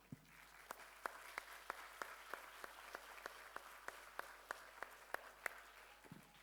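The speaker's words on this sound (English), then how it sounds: "Big round of applause." Faint, evenly spaced claps from an audience at a 21st anniversary celebration, a slow steady rhythm of single sharp hits repeating for several seconds over a quiet room.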